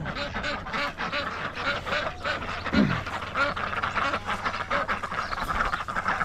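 Ducks quack repeatedly in a busy, continuous chorus, fairly close, with scattered calls overlapping throughout and no pauses.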